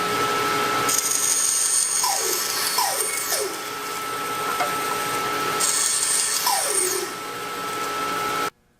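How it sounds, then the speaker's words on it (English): A bandsaw trims wooden tenons to width, its steady motor whine carrying broadband cutting noise through several passes, with short descending squeals as the blade bites, before the machine cuts off at the end. "I'm going to use the bandsaw."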